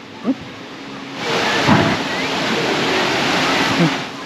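A rider arrives with a rushing splash at the bottom of a trapdoor water slide at Volcano Bay water park, a broad wash of water noise with a faint voice at the start.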